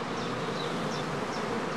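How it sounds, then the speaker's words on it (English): Restless honey bees inside a hive before swarming give a dense, continuous buzzing hum, close and steady, with no voices. "If the bees are restless and tend to run back and forth in the beeways, this is an imminent sign of swarming."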